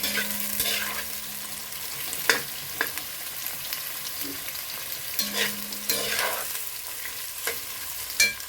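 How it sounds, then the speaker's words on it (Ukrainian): Onions sizzle and crackle steadily in hot oil over high heat for an eggplant sauté, with occasional scrapes and clinks of a utensil stirring the pan. "Нагрілася олія і висипаю цибулю. Гарно перемішаю, хай смажиться."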